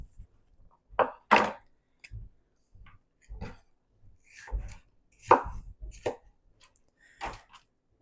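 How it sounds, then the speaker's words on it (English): Knife chopping roasted red and yellow peppers on a board, several separate close cuts in uneven bursts with brief pauses between. "And we'll just cut up this yellow red pepper."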